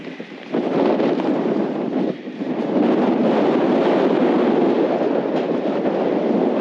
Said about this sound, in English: Very windy here too.